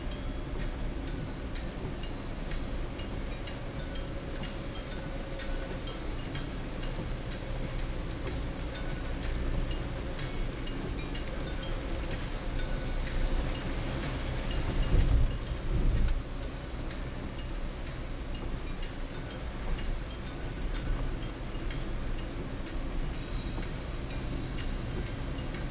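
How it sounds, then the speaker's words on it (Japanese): Heavy downpour drumming on a car driving near Motobu and Sesoko Island in Okinawa, a dense continuous hiss and rumble of rain and road noise that swells briefly midway, with no talk. "大雨ですね。 豪雨ですね。"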